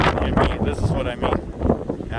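Strong wind gusting at the edge of Table Mountain on a cloudy, rough day, blustering against the microphone in uneven surges while a voice talks over it.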